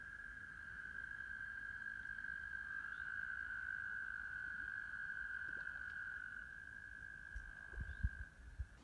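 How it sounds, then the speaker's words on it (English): Frogs call in a continuous high trilling chorus from a distance, steady and unbroken, with a few soft knocks near the end. "Listen to those frogs."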